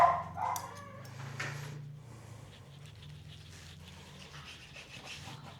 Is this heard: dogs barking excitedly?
yes